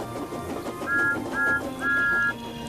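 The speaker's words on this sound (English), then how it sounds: "Thomas whistled." A cartoon steam train engine gives three short whistle toots, the last one held longer, sounding over busy background music and effects.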